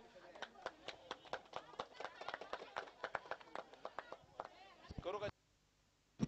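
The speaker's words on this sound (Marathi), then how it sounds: "टाळ्यांचा गजर करूया." At a cricket prize ceremony for the Mulshi Karandak tournament on a ground in Bavdhan, Pune, an audience gives scattered, uneven hand claps for about five seconds before they stop abruptly.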